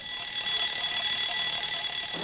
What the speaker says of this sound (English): The general alarm might sound.